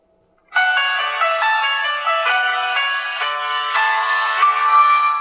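A cheap AliExpress mobile phone switching on, playing a loud, bright electronic startup melody of stepped tones that starts abruptly after a moment of silence and runs on continuously, close to the phone.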